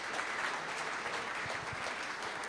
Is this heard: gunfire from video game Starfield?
no